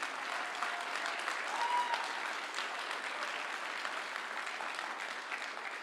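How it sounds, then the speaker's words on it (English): Applause from the audience at a TEDx conference at the University of Toronto Scarborough, a steady, even roar of many hands clapping at moderate distance, continuing without voices. "Let's give him another very well-deserved round of applause,"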